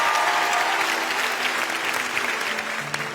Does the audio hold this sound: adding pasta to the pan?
no